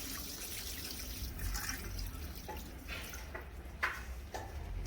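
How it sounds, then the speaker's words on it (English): Water poured from a tap or jug into a pot of washed meat in a rural Vietnamese kitchen, a steady trickling splash with a few drips, fairly quiet over a constant background hum. "Add some water."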